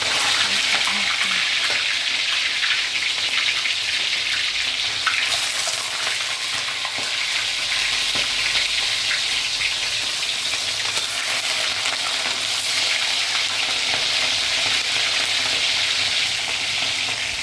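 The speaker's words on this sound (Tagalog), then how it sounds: "piprito ko muna yung bangus bago magluto ako ng fish stick" Milkfish (bangus) frying in oil in a pan, giving a loud, steady hiss and crackle that runs without a break, with a few faint clinks now and then.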